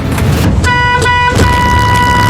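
A school bus horn sounds in three loud tooting blasts over a steady rumble of traffic nearby.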